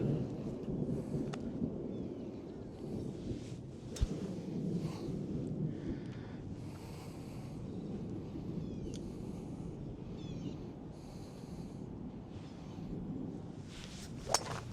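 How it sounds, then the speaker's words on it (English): Low rumbling thunder rolls under steady rain on a golf course, a faint, distant, continuous grumble with a few sharper cracks and no talk. "A little bit of thunder."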